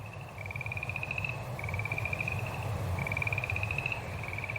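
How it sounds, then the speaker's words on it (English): Boreal chorus frogs call from a remote lakeside, their rising trilled pulses repeating in three long bursts over a steady low hum, moderately near with no voices. "sat alone, listening to a choir of boreal chorus frogs"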